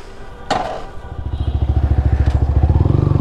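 A Yamaha R15 v3 motorcycle pulls away with a sharp thump, then its engine revs up into a steady, rapid, pulsing drone heard up close as the bike rides off, growing louder and faster toward the end.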